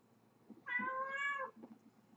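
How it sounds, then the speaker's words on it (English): A single drawn-out cat meow, loud and close, rising briefly and falling over about a second, with faint background rustle before and after; no talk over it. "cat fight."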